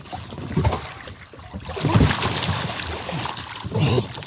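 Water sloshing and splashing inside a kayak as it is rocked side to side to empty it, in uneven surges that rise and fall close by, with some faint voice sounds mixed in.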